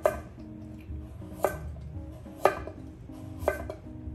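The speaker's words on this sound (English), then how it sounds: "And I'm going to cut as thinly as I can." A very sharp knife thinly slices a carrot on a cutting board, giving four distinct crisp taps about a second apart. The taps are close and clear over a low background hum.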